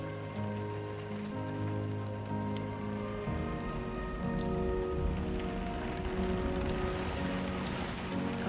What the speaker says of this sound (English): it's her special rain that does it, not her. She makes de-aging rain.